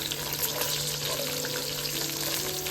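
Green chillies and spices fry in ghee in a pan, giving a continuous close sizzling hiss with faint bubbling and no talk.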